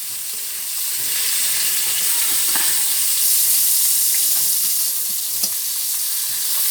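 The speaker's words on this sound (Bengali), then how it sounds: "আর এখানে দেখেন বেগুন ভাজা হচ্ছে" Brinjal slices frying on a clay stove in a village kitchen, a loud, steady hiss of hot oil sizzling close by, with a few faint clicks and stirs over the noise and no voices.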